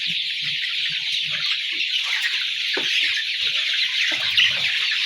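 A flock of 40-day-old brown cocks clucks and chirps inside a farm shed, a dense, steady chorus of overlapping calls with a few nearer, louder clucks.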